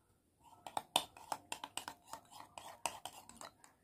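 Aloe vera gel mixed with raw milk in a small bowl, stirred by a spoon that clinks and scrapes against the sides in quick, irregular taps, close and quiet.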